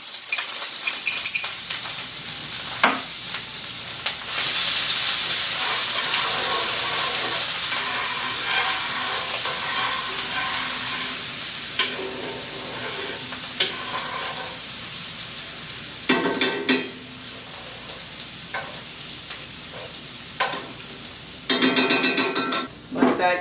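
Heaping tablespoon of mock garlic sizzles in hot oil in a skillet, a steady loud frying hiss throughout, with occasional stirring clatters and scrapes toward the end.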